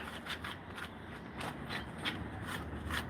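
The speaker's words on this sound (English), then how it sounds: "That's a sound of Layla scraping her nails on the floor" Soft, repeated scratching and scraping against a hard floor, quiet and close, with no talking.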